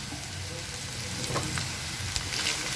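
Garlic sautéing in a hot pan gives a steady, close sizzle and crackle with a few faint scrapes, an even frying hiss throughout.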